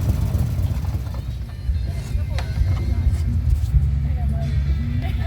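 A motorcycle running on a test drive after an intake leak repair, its engine a steady low rumble throughout, heard up close with people talking over it.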